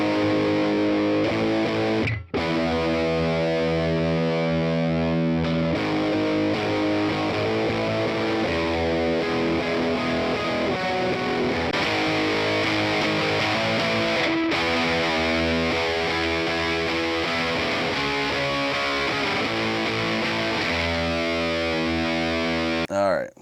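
Electric guitar played through a Boss DS-1W Waza Craft distortion pedal, thick sustained chords and riffs with a brief pause or two, loud and close.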